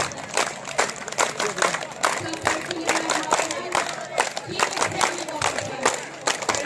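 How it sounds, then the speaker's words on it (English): Crowd applause at the All Assam Khel Maharan boys under-19 final in Hanjanglangso, Karbi Anglong, greeting the Chief Executive Member of the Karbi Anglong Council on stage; dense, loud clapping with cheering mixed in throughout. "A big round of applause."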